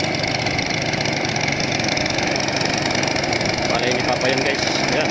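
A motorized rice thresher engine runs steadily close by during a palay harvest, a rough mid-pitched chug with clattering, while a person speaks over it.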